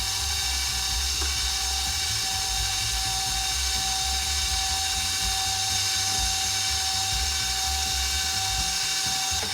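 An electric stand mixer runs steadily at speed 3, beating molasses-rich ginger cookie batter, with a constant close mechanical whir and a high whine that stay even throughout, and no talk.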